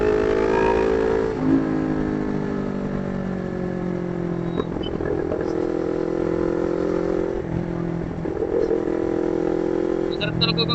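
A CFMOTO 400NK motorcycle engine drones continuously while riding, its pitch rising and falling with gear shifts and throttle changes, under wind noise.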